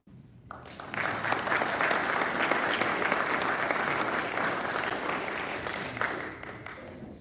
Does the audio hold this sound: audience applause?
yes